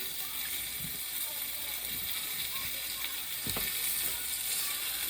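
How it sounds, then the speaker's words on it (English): Steady sizzling hiss of chicken frying in a hot skillet, with a few clanks and scrapes of cookware. "You can hear it sizzling there."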